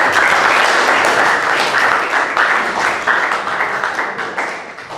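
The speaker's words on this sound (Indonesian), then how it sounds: "Tepuk tangan untuk kita semuanya." A classroom of students claps together in loud, close, rapid applause that carries on steadily and then gradually tapers off toward the end.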